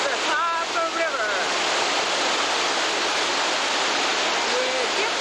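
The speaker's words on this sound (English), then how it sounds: "This is the Copper River." The Copper River near O'Brien Creek in Chitina, Alaska, rushes as a steady, loud broadband roar of fast-flowing water. Faint wind buffets the microphone and a brief voice or bird-like chirp sits near the start.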